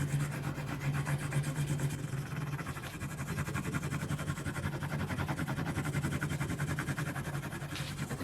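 A rubber eraser rubs back and forth along leveled guitar frets, making a steady rhythmic scrubbing that stays close and fairly quiet, with no talking.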